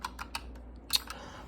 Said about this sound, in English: I would notice some fast reactions when it comes to this keyboard, like with the clicking and stuff.